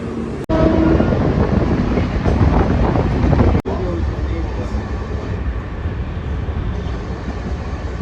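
Mumbai local train pulling into a station, a loud close rumble of wheels and carriages that builds early and then settles into a steady rolling roar, with no voices over it.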